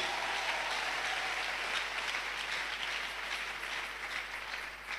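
A church congregation at a sermon applauding and cheering, a dense sustained wash of clapping that fills the space and slowly fades toward the end.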